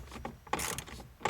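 A small wrench works a screw loose under the center dash of a Ford F-150, giving a few quick ratcheting clicks and metallic scrapes, close and fairly quiet.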